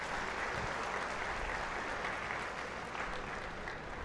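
Sustained applause from an audience at a Telangana BJP state executive meeting, a steady dense wash of clapping at moderate level throughout with no voices over it.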